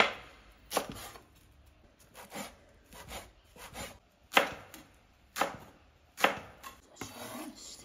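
Fresh mulberry leaves chopped on a board to feed newly hatched silkworms, giving a series of crisp, close knife strokes in uneven bursts with soft rustling between them.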